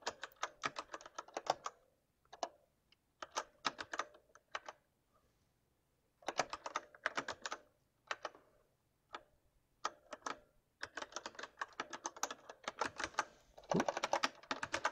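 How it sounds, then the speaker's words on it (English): Bursts of typing on a computer keyboard, entering an encryption key and message on a WROLPi offline internet setup; quick clustered keystrokes, close and clear, separated by short pauses, with no talking. "So I'm going to type in what I see here."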